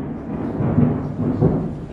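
Thunder rolls through a lightning storm as a deep, continuous rumble that swells and fades, with a few heavier surges near the middle. It sounds broad and rather distant, with no voices.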